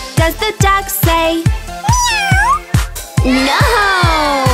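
A playful cartoon-style meow rings out within a bouncy kids' farm-animal song, surrounded by sung lines and a steady beat.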